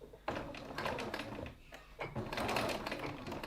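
A sewing machine bastes the sides of a fabric piece, running in two loud, buzzing stretches with a short pause between them, close up and with no talk.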